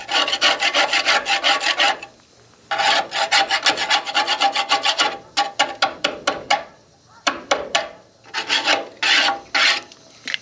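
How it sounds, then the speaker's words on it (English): A putty knife scrapes caked dirt off the deck plates of a John Deere 643 corn head in rapid loud rasping bursts, pausing briefly between runs of strokes. "I've just got a putty knife to loosen it all up."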